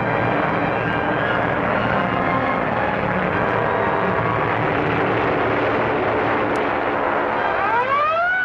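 Airplanes of a squadron take off in a 1942 film serial, a loud, steady, droning engine roar filling the scene, with a rising whine near the end.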